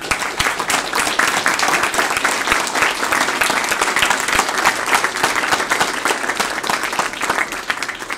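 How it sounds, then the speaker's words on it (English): An audience applauds an award recipient at a university Preceptor Award event with sustained, even clapping that holds at a steady moderate level throughout. "How about one more applause for Jeff?"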